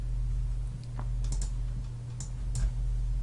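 Quiet keystrokes on a computer keyboard while filling in a spreadsheet, a handful of soft, irregular clicks over a low steady hum.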